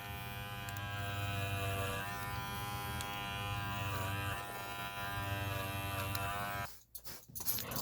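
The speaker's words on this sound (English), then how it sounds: "I do go in next with the shaver" A close electric shaver carving the pile of a tufted rug buzzes steadily with a slight pulsing hum, then stops briefly near the end with a couple of short bursts.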